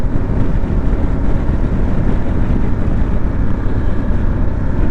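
A Harley-Davidson Pan America motorcycle on a ride, its engine a steady loud low rumble blended with heavy wind rush across the microphone, constant throughout with no speech.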